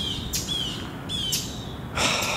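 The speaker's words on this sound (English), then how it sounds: "now the birds are going completely apeshit all of a sudden" Several birds chirp and tweet in sharp high bursts directly overhead, outdoors beside a Toyota SR5 4x4 pickup truck, three loud flurries of calls over a steady background hiss with no talking.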